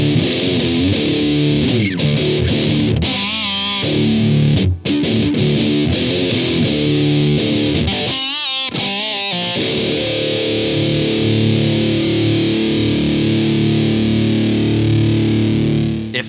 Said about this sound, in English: It's got a 3-band EQ, a noise gate, and a super heavy, thick distortion.